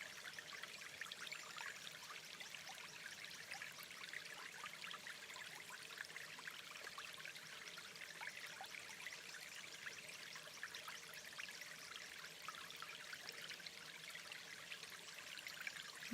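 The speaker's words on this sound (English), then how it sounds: "moving water masks her footsteps, allowing her to approach aquatic life without transmitting heavy vibrations through the ground" A jungle stream runs and trickles steadily over roots and submerged rocks, producing a constant soft babbling wash that stays quiet and even throughout, with no voices.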